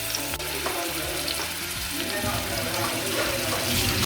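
Eggplant pieces fry in a small amount of oil, giving a continuous crackling sizzle at steady close volume throughout.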